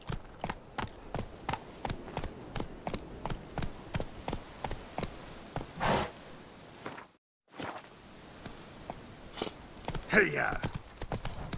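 Roach the horse from The Witcher 3 trots in steady clip-clop hoofbeats, even and close, with a rider's shout near the end and a brief gap of silence midway.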